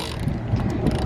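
Thicker line is wound onto a fishing reel aboard a sailing boat, producing a close, constant grinding rattle of turning gears, with a low rumble of wind beneath it.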